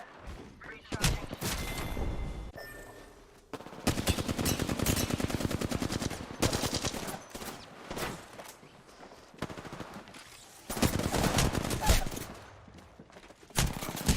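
Dense video game gunfire comes in repeated loud bursts of rapid automatic shots and heavier impacts, with brief pauses between volleys as the player takes fire.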